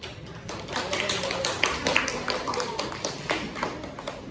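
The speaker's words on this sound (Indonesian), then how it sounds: "berikan aplaus untuk kelompok 1" A classroom group claps in applause for the first group of students during a micro-teaching practice lesson, a brisk, dense run of handclaps that holds steady for a few seconds before thinning out.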